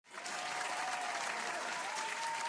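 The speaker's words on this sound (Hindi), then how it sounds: "अरे बजाओ ना ताली, बजाओ ताली।" A crowd breaks into a burst of clapping, an even wash of applause that rises quickly and holds steady, fairly faint and distant, with a thin tonal hum running underneath.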